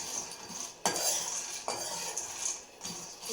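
Peanuts roasting in a pan, with a metal spoon scraping and clinking against the pan in a few distinct strokes over a soft background hiss.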